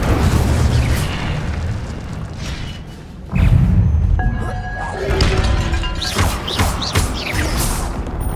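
Fire spell cast in the Hogwarts Legacy video game, a loud booming burst at about three seconds amid dense, continuous game noise with further whooshes and crackles.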